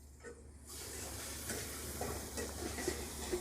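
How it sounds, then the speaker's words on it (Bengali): Chopped large onions softening in hot oil, a soft continuous sizzle with faint hiss and light stirring, quiet and close, no talking. "পেঁয়াজটা নরম করে সুন্দর করে ভেজে নিতে হবে।"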